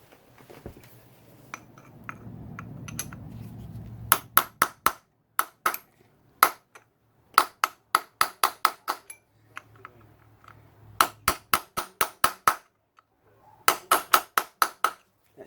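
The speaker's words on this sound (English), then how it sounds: "Using an old flathead here, just to get that tab started." An old flathead screwdriver taps and pries at a tab on a Yamaha YZ125 engine case, giving sharp metallic clicks and pings in quick bursts of several strikes, separated by pauses and a faint low rumble.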